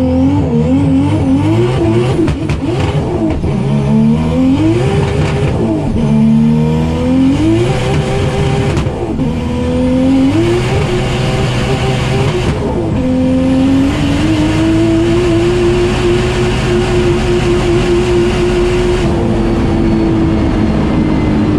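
A modified VW Golf race car on a half-mile speed run, its engine roaring loud and close as it climbs through the gears, each shift breaking into a rising whine, building to a long sustained high-speed drone.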